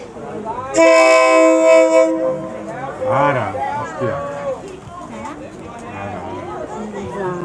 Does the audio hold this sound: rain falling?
no